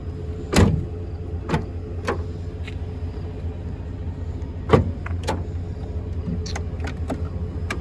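Clunks and latch clicks ring out as the tailgate of a 2024 GMC Sierra 2500 AT4 pickup is pushed down, several sharp knocks spread over a few seconds against a low steady hum.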